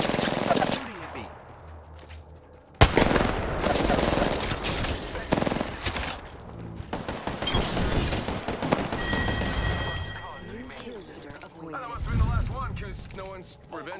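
Video game gunfire: rapid automatic bursts and single shots mixed with explosions, loud and close, with a player speaking over the fighting at times.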